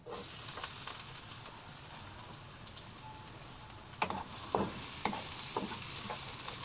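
Garlic sizzles in two tablespoons of hot oil in a pan, a steady soft frying hiss punctuated by a few sharp stirring clinks near the end.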